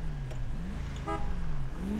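Car in GTA 5 rolling up close with a steady low engine hum that shifts in pitch, plus a brief horn-like toot partway through.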